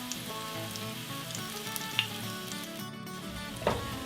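Onions sizzle steadily as they fry in hot oil for homemade refried beans, a continuous crackling hiss with a few sharper pops, close and fairly loud throughout.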